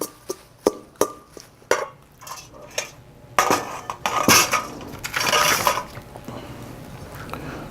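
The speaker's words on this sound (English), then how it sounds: "So we're just going to coat the spring mix with the dressing." Spring mix salad is tossed with dressing in a bowl, giving sharp clinks and taps of utensils against dishware, then a denser rustling, scraping stretch, close and without speech.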